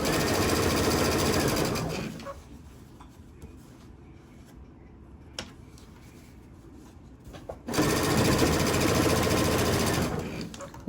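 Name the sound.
sewing machine piecing T-shirt quilt blocks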